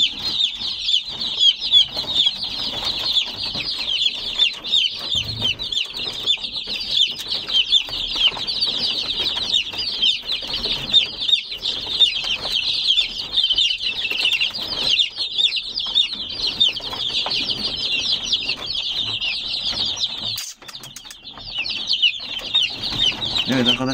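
A dense chorus of Australorp and Australorp-cross chicks cheeping continuously at high pitch, with occasional wing flutters, steady and close throughout.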